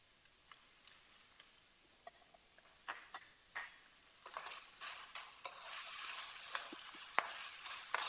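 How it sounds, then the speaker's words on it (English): Chicken with rosemary being stirred in a pan, a soft sizzle building beneath a series of sharp spoon clicks and scrapes that grow busier and louder toward the end, close up with no talking. "Now we can do the stirring"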